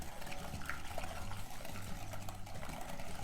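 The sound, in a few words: milk being poured into banana pudding mix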